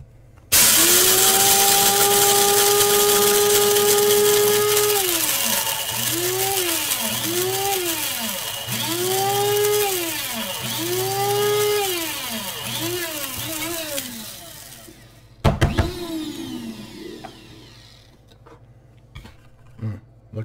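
An electric grinder grinds pepper for Cajun seasoning with a loud, close mechanical whine whose pitch dips repeatedly over about fifteen seconds, then cuts off, followed by a few clunks and handling sounds.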